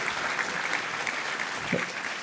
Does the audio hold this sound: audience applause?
yes